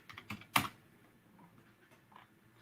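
Several key clicks on a computer keyboard while a show-options command is entered in Metasploit, a cluster of quick taps with one sharp louder keystroke, fairly close and quiet, with no talk.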